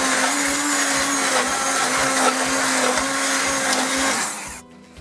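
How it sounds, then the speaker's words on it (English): A blender whirs through vegetable soup with a loud, steady motor drone, then winds down and stops just before the end. "now I'm going to blend it up again to mix it all together"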